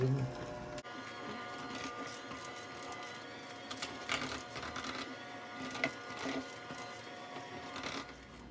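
Electric mixer on low speed whirring through cheesecake batter, a steady, fairly faint mechanical drone with small clatters throughout.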